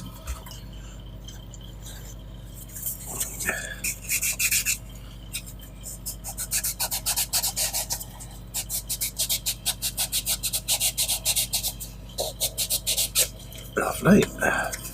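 Repeated rapid scratchy rubbing strokes in bursts, close up, with brief pauses between passes and a short voice near the end.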